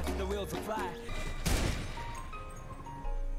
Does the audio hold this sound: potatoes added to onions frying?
no